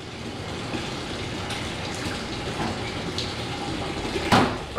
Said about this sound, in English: You can see the air bubbling through it, which is pretty cool.